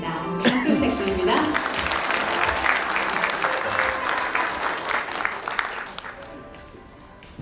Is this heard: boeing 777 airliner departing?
no